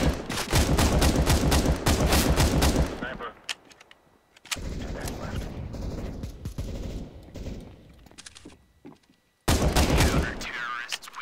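Counter-Strike: Global Offensive gunfire during a bomb defusal round, bursts of rapid automatic shots that come in loud clusters and break off between pauses, with a voice talking in the quieter gaps.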